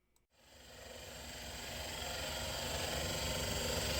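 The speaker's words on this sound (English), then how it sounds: "Just drill a 1 1/4 inch hole in the piece of walnut near the top." After a brief click, a drill press whirs up and grinds steadily, a continuous buzzing drone growing slightly louder as a 1 1/4 inch bit bores into walnut.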